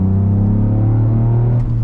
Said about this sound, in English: That sounds awesome, that car.